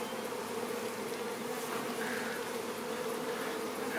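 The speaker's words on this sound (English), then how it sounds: "It's just a really weird feeling to be surrounded by bees." Dense, steady buzzing of many honeybees swirling close around an opened hive, a continuous drone holding at even loudness throughout with no talking.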